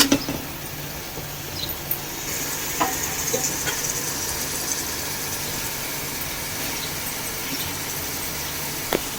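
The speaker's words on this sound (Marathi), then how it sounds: "थोडा वेळ आपल्याला व्यवस्थित परतवायचं याला सगळ्या गोष्टी व्यवस्थित परतवून घ्यायच्यात" Prawn masala sautéing in a pan for prawn pulao, a steady soft sizzle and frying hiss with a few faint stirring clicks, continuous and close with no talking.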